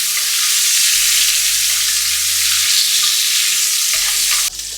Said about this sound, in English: while I got the pepper sauteing